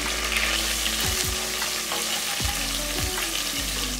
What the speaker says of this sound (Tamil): பாருங்க, இந்த அளவுக்கு நல்லா வதக்கியாச்சு.